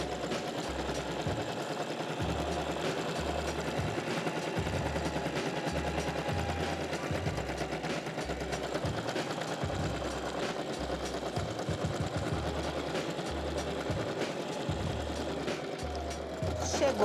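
A sewing machine stitches a seam in fast, rhythmic bursts of mechanical clatter, running close and steady with short pauses between runs.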